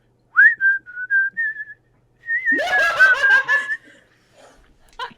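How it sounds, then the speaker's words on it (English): Someone whistles a short, wavering tune alone, then breaks into a burst of snickering laughter, with a brief chirp at the end. "you hear him whistling to himself"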